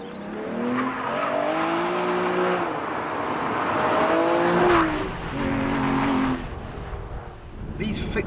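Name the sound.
Aston Martin DBS car driving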